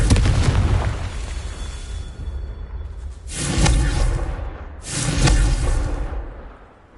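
A Confringo blasting spell from Hogwarts Legacy, a video game, goes off twice in two loud, whooshing booms, each swelling and fading over roughly a second and a half, after a rumbling opening.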